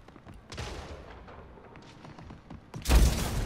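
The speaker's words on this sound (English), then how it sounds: "just threw a grenade at me" A grenade explodes in the first-person shooter SplitGate, a loud, close broadband blast landing near the end of the clip after a stretch of quieter, scattered gameplay noise.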